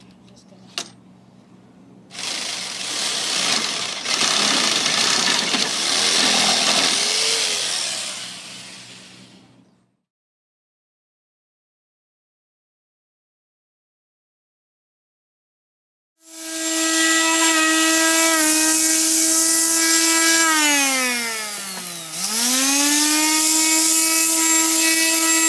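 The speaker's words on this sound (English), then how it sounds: "I'm going to clamp this piece down because it's pretty thick, and so we're going to saw the shape out." A hand saw cuts the shape out of a thick, clamped piece of wood for a cheese and cutting board, giving close, steady rasping strokes for several seconds, then a pause, then a loud whining tool noise with a falling and rising pitch.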